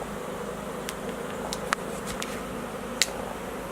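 Honey bees from a freshly installed package swarm closely around a person, forming a steady, dense buzzing hum with a few soft clicks and no talking.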